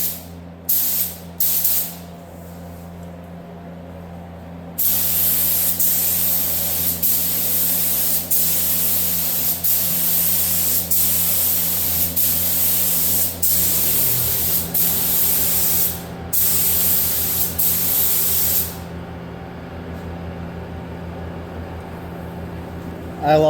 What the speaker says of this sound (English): and then we'll spray some clear.